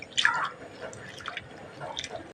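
Split lentils for Mysore sambar are rinsed by hand in a vessel of water, giving soft splashes, drips and squishy sloshing in short irregular bursts, close and moderately quiet.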